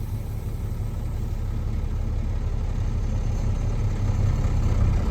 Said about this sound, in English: There, the engine began to pull against the brakes.